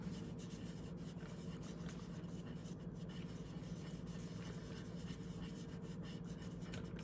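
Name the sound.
baby wipe rubbing water soluble crayon on paper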